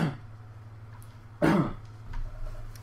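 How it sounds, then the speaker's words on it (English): A single loud, close cough bursts out about midway through, following brief throat noises at the start, against a low steady background hum; no talking. "I'm going to cough"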